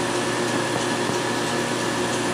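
A Centroid CNC machine running a job without cutting, giving a steady, loud whirring drone with a constant hum and a faint rhythmic ticking underneath, nobody talking.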